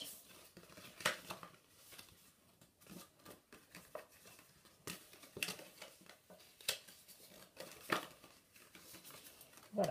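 Paper being creased and pressed along folds for a small Easter paper basket, with soft close crinkles, taps and scrapes in an uneven run, quiet and with no talk.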